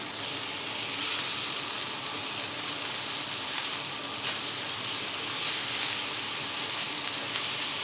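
Porterhouse and ribeye steaks sear on a hot griddle top, a steady loud sizzle and hiss of fat and juices running without a break, with no voices over it.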